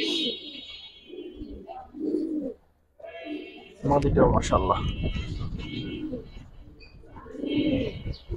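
Pigeons in a loft coo in soft, repeated low bursts close by, while someone talks over them at times and a stretch of louder rustling and fluttering breaks in midway.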